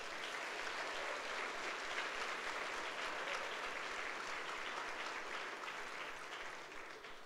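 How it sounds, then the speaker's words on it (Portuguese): Church congregation applauding at a Sunday worship service, steady sustained clapping from a large crowd that holds at full strength before easing off slightly toward the end. "Dá um aplauso ao Senhor Jesus"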